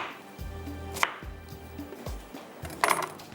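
A knife cuts large tomatoes and onions into pieces for a mutton rosh, a handful of distinct, close chopping thuds landing at irregular intervals, with a couple of light clinks.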